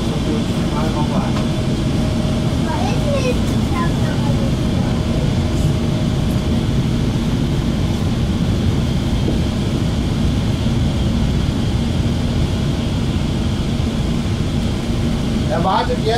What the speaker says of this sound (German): Hier unten sehen Sie am Flugzeug, die Triebwerke laufen noch.